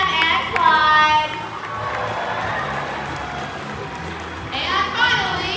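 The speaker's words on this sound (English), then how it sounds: "And keep your applause going for Sam and Clyde." Crowd applauding and cheering at a SeaWorld San Antonio animal show, a broad outdoor wash of clapping and shouts with children's voices, swelling at the start and again near the end, under a raised announcer-style voice.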